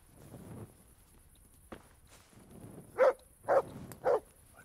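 A dog in the medieval role-playing game Kingdom Come: Deliverance barks at a horse, three sharp barks about half a second apart over soft footsteps and quiet outdoor ambience.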